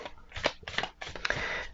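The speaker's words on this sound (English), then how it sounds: "Let's shuffle this." A deck of Supernatural tarot cards is shuffled by hand close up, a few quick riffling bursts of papery flutter and snaps, fairly quiet, with no talk.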